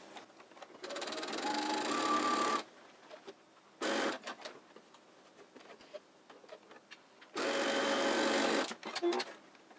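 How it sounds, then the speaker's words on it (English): A sewing machine stitches fabric mask seams with single stitching and back stitching, running in three close, steady whirring bursts, the first and last about two seconds long, with quieter handling noises between them. "we're still going to use a single stitch and back stitch on each of the seams"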